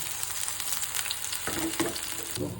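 Lentil fritters (dal bora) frying in oil on a lowered stove flame, a soft continuous sizzle with a few gentle thuds and shuffles as they are handled near the end.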